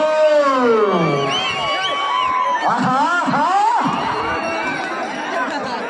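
Spectators shout and cheer loudly and continuously at an Ongole bull cart-pulling race held during a village temple chariot festival, with overlapping whoops, calls and a commentator's voice over the crowd.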